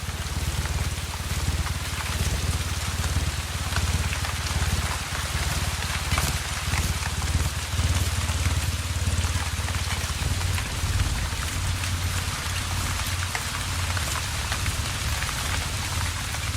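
Rain pours steadily through the Atlantic Forest, a dense, even hiss of drops striking leaves and surfaces, loud and continuous for the whole stretch with no voices.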